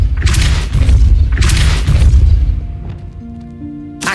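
A Depulso spell cast in Hogwarts Legacy goes off with loud, booming bursts, two heavy blasts in quick succession, then fades into a ringing magical tail with a faint tonal shimmer; no talk.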